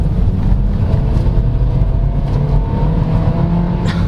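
A 2019 Kia Forte LX with an automatic transmission accelerates hard, its engine droning loud and steady from inside the cabin as the revs climb.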